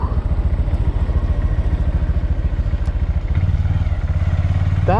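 A Honda Grom motorcycle engine revs hard and steady during a wheelie, a loud pulsing thrum close by, dropping and shifting in pitch near the end with a brief rising whine.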